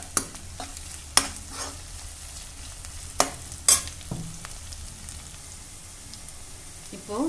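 Ginger garlic paste and chopped onions fry in a pan while being stirred: a soft continuous sizzle broken by several sharp spoon knocks and scrapes against the pan.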